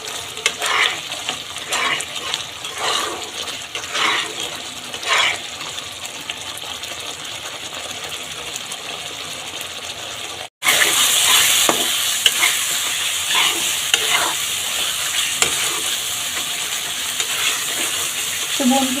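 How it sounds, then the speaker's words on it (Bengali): Spice paste for chicken curry is stirred and fried in oil, producing a continuous sizzle with repeated scraping strokes, louder and brighter after a brief cut partway through. "এবার মশলাটা আস্তে আস্তে এভাবে কষিয়ে নিচ্ছি"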